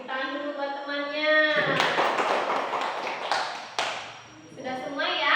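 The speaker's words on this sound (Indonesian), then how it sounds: "Tepuk tangan dulu buat temannya." Students in a classroom clap for a classmate: a short burst of scattered hand claps in the middle, framed by a voice speaking before and after.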